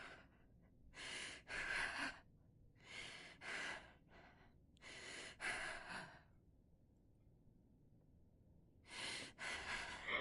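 Heavy character breathing from the Quarantine Zone video game, several loud breathy bursts of one to two seconds each, separated by quiet pauses, with no talk over them.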